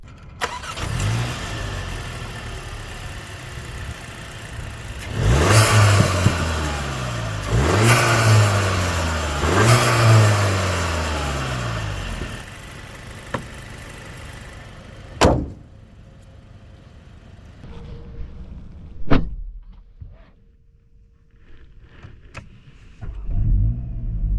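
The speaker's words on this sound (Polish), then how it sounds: "pod maską jest nadal 4-cylindrowy silnik turbo, 2 litry" A 2024 VW Golf GTI 8.5 2.0 TSI turbo four-cylinder engine, 265 hp, with DSG seven-speed gearbox, revs up through several rising gear pulls, loud and close, then cuts off, leaving a quieter idle and a few thumps.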